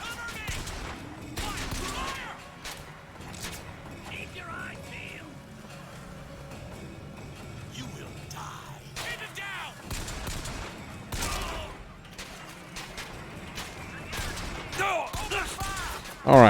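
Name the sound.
gunfire in the video game Bioshock Infinite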